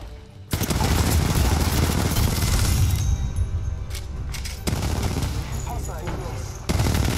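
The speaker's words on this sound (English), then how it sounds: "Opening fire on the enemy." Dense, continuous automatic gunfire from the battle royale game Apex Legends rattles loud and close for several seconds, broken by brief pauses before bursting again.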